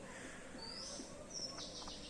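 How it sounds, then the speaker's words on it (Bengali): Soft pigeon calls and brief chirps come from a short distance over a quiet background as the birds are released from their loft, a few quick notes near the end. "দেখো সব পায়রাগুলোকে আমরা ছেড়ে দিলাম"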